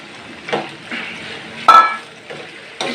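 Chicken liver being mixed in a cooking pot, several scraping strokes of a spoon with a sharp metallic clink partway through, close and fairly loud over a faint background sizzle.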